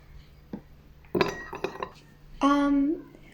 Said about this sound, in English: So we're gonna add another spoon and another spoon.